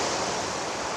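Waves washing steadily against the shore near Dungeness lighthouse, a continuous broadband surf rush with some wind mixed in and no voices.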